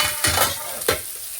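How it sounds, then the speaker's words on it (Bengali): Spice masala sizzles in hot oil in a pan, with two distinct bursts of stirring scrapes over a steady frying hiss. "মশলাটা কষানি হোক"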